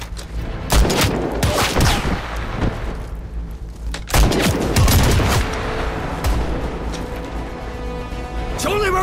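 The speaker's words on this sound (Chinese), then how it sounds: "桥那边开枪了" Gunfire in a Chinese wartime action film: bursts of rifle and machine-gun shots with heavy booms and thuds, loud and repeated over several seconds, mixed with shouting voices.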